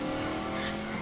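A game car revs and pulls away in a short, loud burst of engine noise with a hint of tire squeal, steady throughout.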